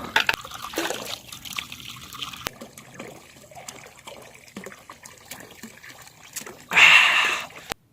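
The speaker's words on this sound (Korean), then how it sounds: "여기가 조령샘인가 보네요 물 좀 마시고 갈게요" Mountain spring water trickles softly at Joryeong spring on a trail toward Joryeongsan, faint and close with scattered clicks, then a louder splashing pour near the end.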